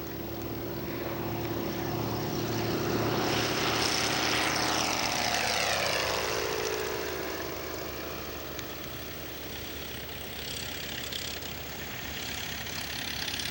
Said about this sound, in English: And then we have Mel taxiing out